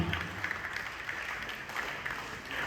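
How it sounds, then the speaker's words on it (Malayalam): Steady applause from a modest crowd at a school magazine release event, clapping evenly at a moderate distance without a clear start or finish. "ഈ വേദിയിലേക്ക് ഒരു നിറഞ്ഞ കയ്യടിയോടുകൂടി സ്വാഗതം ചെയ്യുകയാണ്"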